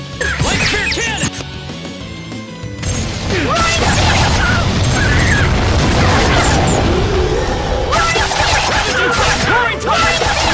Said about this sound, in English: Light spear cannon!